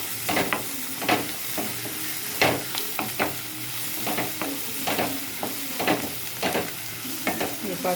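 Turmeric is added to a frying mixture in a pan and stirred, giving a constant sizzle with frequent sharp scrapes and taps of the spoon at an uneven rhythm.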